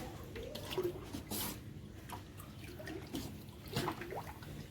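Water scooped out of a fish tank during cleaning: soft wet squishes, drips and splashy scoops recur every second or so at close range, with no talking.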